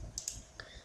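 A computer mouse clicks in Word, two quick faint clicks close together, then a softer third click, over a quiet room.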